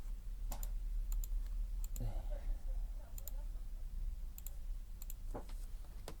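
Scattered keyboard typing clicks in small clusters across several seconds, with faint talk between them.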